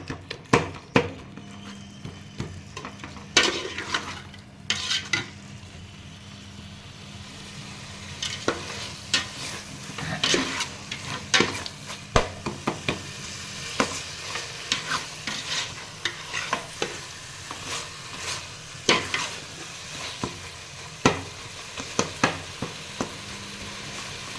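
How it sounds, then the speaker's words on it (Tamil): Tomato rice being stirred in a pan with a utensil, a steady series of scraping, clattering strokes over a faint sizzle, fairly close and with no voices. "இதை நல்லா கிளறி விட்டுக்கலாம்."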